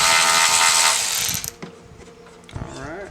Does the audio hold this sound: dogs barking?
no